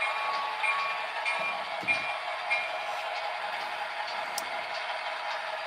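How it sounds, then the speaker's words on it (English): Steady rolling rumble of small model rail cars moving along track, a continuous mechanical hum with faint clicks, no voices. "trying to push the slag cars over here"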